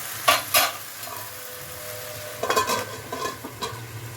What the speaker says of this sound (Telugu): మధ్య మధ్య తీసి కదుపుతూ ఉన్నానండి, అడుగు మాడకుండా